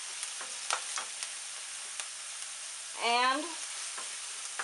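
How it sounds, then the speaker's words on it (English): Onions and garlic cloves frying in a pan for spicy Indian chickpeas, a soft steady sizzle throughout with a few faint clicks and a brief louder stir in the middle. "I'm going to just cook these until the onions get translucent. Now to that, I'm going to add, I've got 4 garlic cloves to add to that."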